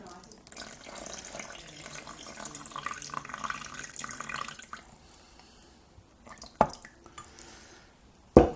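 Warmed water is poured into a Panasonic bread maker pan in a kitchen, a continuous splashing trickle that thins out, ending with a couple of sharp knocks.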